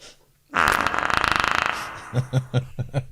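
A voice imitates a loud fart: a long, buzzing raspberry followed by a series of short, sputtering bursts, close and loud.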